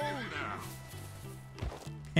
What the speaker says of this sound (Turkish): Sanki bir yerde bir kişneme duydum da.